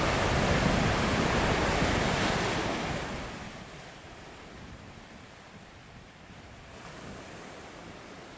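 Waves wash onto a peaceful beach at Swansea on Tasmania's east coast, a broad continuous surf rush that swells loud at first and then eases back to a softer hiss, with wind buffeting the microphone.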